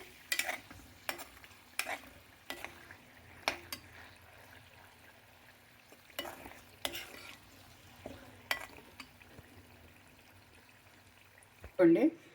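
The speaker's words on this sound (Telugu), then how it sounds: "తాళింపు వేసేస్తున్నాను" Tempering spices hit hot oil in a quiet kitchen, producing soft, scattered crackles and pops at irregular intervals, with a brief clatter near the end.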